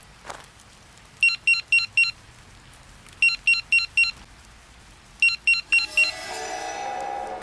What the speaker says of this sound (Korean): 다시 M선배의 삐삐가 울렸습니다.